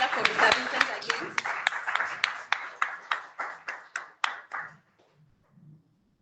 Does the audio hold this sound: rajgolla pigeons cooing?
no